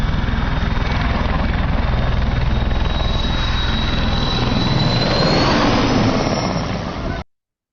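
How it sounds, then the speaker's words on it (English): A helicopter climbs fast, its blades chopping in a rapid, regular beat over a loud engine whine that rises in pitch, close and dominant before cutting off abruptly. "the noise of helicopter blades cutting through the air as it rapidly gained height"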